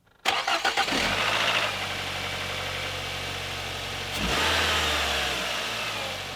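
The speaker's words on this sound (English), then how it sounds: "Now start the engine and give it a few revs." A Nissan Primera P12 engine cranks and catches, idles briefly, then gets a strong rev that swells and settles back to a steady hum.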